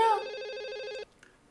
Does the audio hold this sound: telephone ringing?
yes